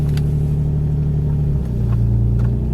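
A Nissan 350Z idles steadily after a snowy cold start at 20 degrees, a close, even low engine hum whose pitch dips slightly partway through, with no talking.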